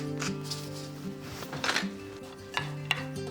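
Sweet potato, butter, pepper and salt get stirred together in a pie dish, giving soft scraping and light clinks of a utensil against the dish over a steady low background hum, with a few sharper taps near the end.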